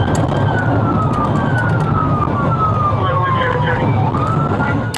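A siren wails in a long, slowly falling tone, loud and close, over heavy road and engine noise as an emergency vehicle moves through traffic.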